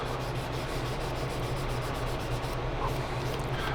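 Fine 1500-grit sanding sponge rubbing over primed scale-model surface, a steady close scratchy rasp of continuous back-and-forth strokes with no talking.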